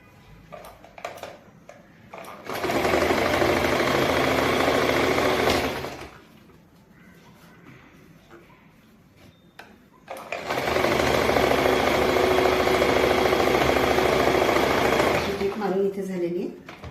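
A sewing machine stitches palazzo pants in two steady whirring bursts of about three and a half seconds each, close up, with a quiet pause between them where a voice talks softly.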